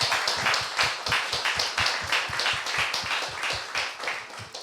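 A church congregation claps in a steady rhythmic beat during a worship service, many hands together at a moderate volume, with no talk over it.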